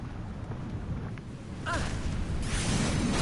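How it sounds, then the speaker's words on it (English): Lava explosion in the video game Final Fantasy 14, heard inside a dungeon: a rumbling roar swells midway and settles into a sustained loud, hissing blast over steady low game ambience. "A lava explosion."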